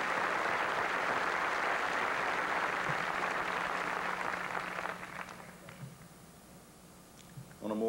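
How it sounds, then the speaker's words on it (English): Applause from the crowd at the 1987 North Carolina Vietnam Veterans Memorial dedication, a broad steady wash of clapping that gradually thins after about five seconds and dies down, with faint murmuring near the end. "let's give them a big round of applause because they have worked very hard on this project."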